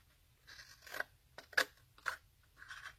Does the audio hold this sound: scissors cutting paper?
yes